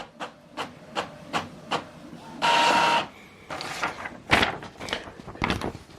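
An Epson XP 5200 inkjet printer prints a test page: regular mechanical clicks and taps, then a loud whirring feed sweep and more rattling carriage noises, close and with no talk.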